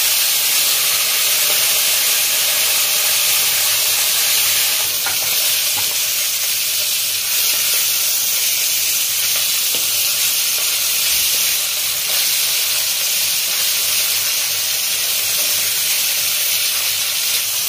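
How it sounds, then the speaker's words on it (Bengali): Garlic frying in hot oil in a pan before fish goes in, a loud, steady, close sizzle and hiss with faint crackles throughout. "মাছ ভাজার আগে তেলে আমি রসুনটা ভেজে তুলে"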